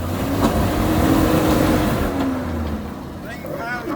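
A broken Nissan Y62 Patrol engine runs rough off-road, with a loud, uneven droning rumble and shifting revs, as voices talk over it.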